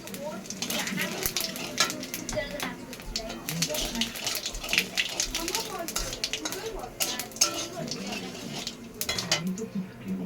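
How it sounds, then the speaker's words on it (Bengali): Cumin seeds temper in hot oil in a wok, giving a light sizzle under busy clatter of metal utensils and stirring, while a voice speaks nearby. "জিরে ফোড়ন দিই।"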